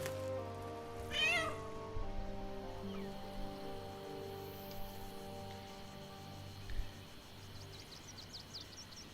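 A cat meows in the fantasy role-playing game Baldur's Gate 3, one clear rising call early on, over a steady layered ambient game soundtrack with soft rainy texture and faint chirps later.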